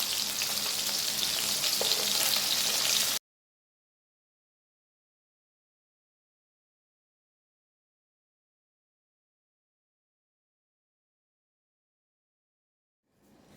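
Oil frying and sizzling in a pan during fish masala cooking, a loud steady hiss for about three seconds before cutting to silence, with a faint return at the very end.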